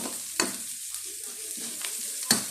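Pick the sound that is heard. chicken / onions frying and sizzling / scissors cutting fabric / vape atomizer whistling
onions frying and sizzling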